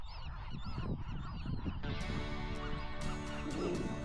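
Honking bird calls, goose-like, sound repeatedly at moderate distance on Anacapa Island, followed by a sustained bright tone overlaying the calls.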